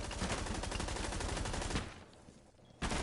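Rapid automatic gunfire in a competitive shooter match, loud dense bursts for under two seconds, then a quiet gap and one more sharp shot, with no talk.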